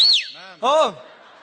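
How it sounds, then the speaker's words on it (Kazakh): A bright whistle sweeping downward, followed by short harmonic voiced sounds, up close and fairly loud. "Біреу ысқырды ма?"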